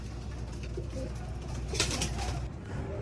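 Soft, low pigeon coos repeat against a steady outdoor hum, with a faint chirp partway through; nobody speaks.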